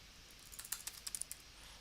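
Quiet, rapid clicks of a computer keyboard as a command is typed, about a dozen light keystrokes in an uneven burst, close and soft with no talking.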